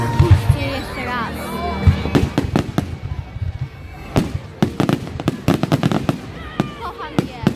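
Fireworks burst at a Bonfire Night display in Manor Fields Park, Sheffield: a rapid series of sharp bangs and crackles, some whistling, close and loud, with people chattering nearby.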